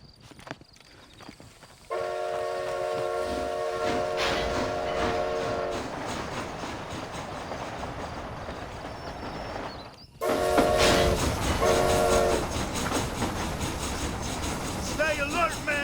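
A steam train from the video game Red Dead Redemption rolls along with steady clattering wheels and a loud sustained whistle blast, then a second whistle later, heard alone with no talk, loud and continuous.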